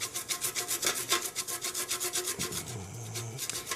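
Styrofoam scraped back and forth with a fine rasp to form model snow drifts, giving rhythmic, fairly quiet rasping strokes in a steady repeated pattern, with no voice over it.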